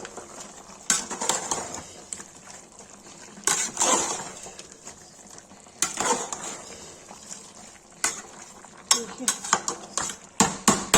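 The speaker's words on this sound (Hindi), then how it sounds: "इसको चला देंगे" A spoon stirs chicken masala with red chilli and turmeric in a metal handi pot, giving repeated scraping clinks and bursts of clatter at irregular intervals, close and moderately loud.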